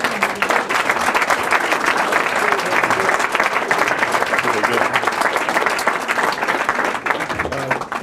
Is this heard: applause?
yes